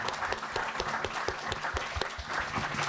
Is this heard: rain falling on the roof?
no